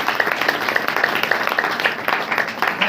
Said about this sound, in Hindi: ताली बजाकर परमेश्वर को